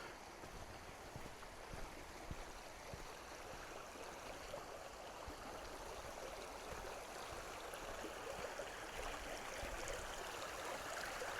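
At a backpacking water crossing in Dolly Sods, a creek rushes with a steady broad hiss of flowing water, constant and fairly faint, with no voices.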